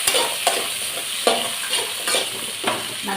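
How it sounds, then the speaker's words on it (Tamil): Tomatoes with curry leaves sautéing in a pan for fish kulambu: a steady close sizzle with spoon stirring scrapes recurring every half second or so, no talk. "அடுத்தது தக்காளி, இது எல்லாத்தையும் போட்டு வதக்க போகிறேன்."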